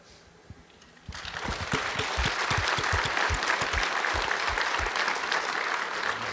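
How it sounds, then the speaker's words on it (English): After a near-silent second, audience applause for panelists at a conference discussion bursts in loudly and holds steady, dense clapping from a large crowd with a few heavier individual claps standing out. "let's give another round of warm applause to our panelists"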